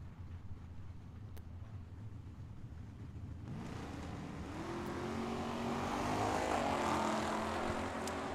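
A Corvette and a Pontiac launching side by side at a dragstrip, engines swelling from a low idle rumble into a rising, sustained roar that grows louder toward the end.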